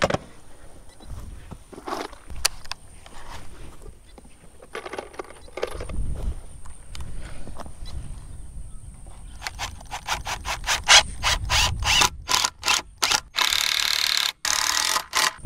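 Deck screws are driven into wood while building a ground mount for a solar array: scattered quiet knocks and scraping first, then rapid repeated bursts of a driver near the end.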